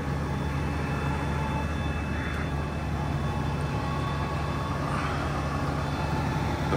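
Massey Ferguson 8740S flagship tractor idling steadily as its PTO engages, a constant close diesel drone with a low rumble and faint higher whine, no voices.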